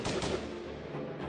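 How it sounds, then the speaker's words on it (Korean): Distant gunfire in a sound effect for a battle scene, a dense continuous roar of shots heard alone, steady and moderately loud through the whole stretch. "저 멀리에서 요란한 총소리가 울려 퍼지기 시작합니다"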